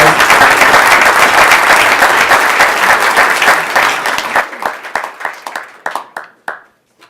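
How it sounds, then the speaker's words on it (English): An audience applauds after a startup pitch at a Kansas City community event, with dense clapping that thins out into scattered individual claps and stops after about seven seconds. "Go ahead and give a round of applause."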